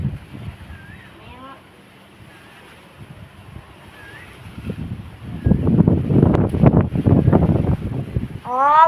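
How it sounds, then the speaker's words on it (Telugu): Strong gusty wind blowing dust ahead of rain, rushing and buffeting the microphone, building from a low rumble to a loud, sustained roar in the second half, with voices heard faintly at times. "గాలి దుమ్ము ఎక్కువ వస్తుంది, వాన పడేటట్టే ఉంది."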